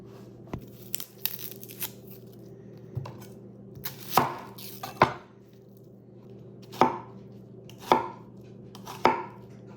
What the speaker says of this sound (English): I haven't had a knife that was good at cutting bread in literal years.